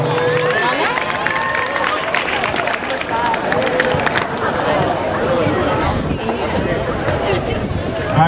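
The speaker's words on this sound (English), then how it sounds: "Give him a round of applause, y'all." A large audience at a fraternity probate show produces loud, continuous applause and cheering mixed with crowd noise and shouting, steady throughout.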